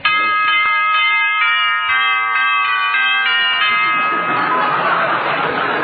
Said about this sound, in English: Well, you really fixed that doorbell, didn't you, dearie?